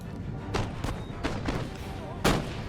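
Musket volleys and artillery booms from a large Empire: Total War battle, including native artillery and musketmen, sound as several sharp blasts amid continuous battle noise, with someone talking over them.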